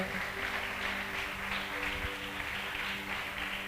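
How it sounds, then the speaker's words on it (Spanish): Applause from a church congregation during a worship service, a dense, steady patter of clapping that holds evenly throughout without a break. "Dele un fuerte aplauso al Señor."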